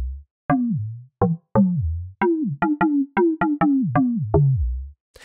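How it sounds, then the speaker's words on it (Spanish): Synthesized Indian tabla drum strokes built in FL Studio play a lively pattern of about a dozen sharp hits with pitch-bending, resonant decays, close and clean with no other sounds. "Y esta percusión se llama tabla"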